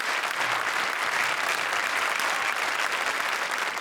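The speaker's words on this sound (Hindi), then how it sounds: "जोरदार तालियां राजेश और राजीव के लिए।" A studio audience at a comedy show claps in a dense, steady burst of applause that holds at full strength for a few seconds.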